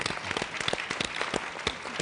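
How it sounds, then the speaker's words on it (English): Luncheon audience at a technology roundtable giving Emilio a round of applause, a short burst of distinct, fairly sparse hand claps at moderate volume. "Let's give Emilio a round of applause."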